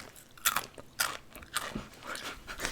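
Crunching while eating a snack close to the microphone: several sharp, loud bites and crunches come at an irregular rhythm, with quieter chewing in between and no talking.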